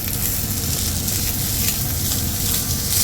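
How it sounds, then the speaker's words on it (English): Coriander, salt and pepper spices are stirred through in a hot frying pan for a keema curry, producing a loud, steady sizzle with scraping stir sounds up close and no talking. "so I'm just going to stir all this through"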